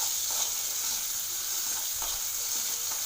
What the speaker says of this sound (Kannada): ಹಸಿ ವಾಸನೆ ಹೋಗಲಿ ಚೆನ್ನಾಗಿ ಬಾಡಿಸ್ಕೋಬೇಕು